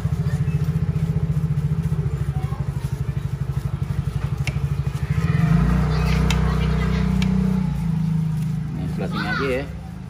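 A Vespa scooter engine runs with a steady, close, pulsing putter, then revs up louder about halfway through and holds a fuller, rougher drone to the end.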